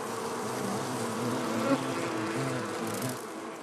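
Korean honeybees buzzing in a steady, dense drone, close and continuous with no pauses, a swarm-like hum filling the whole moment.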